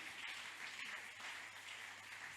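A church congregation at a camp meeting sermon applauds and cheers to acclaim Jesus, a steady, distant wash of clapping that holds evenly throughout with no single claps standing out.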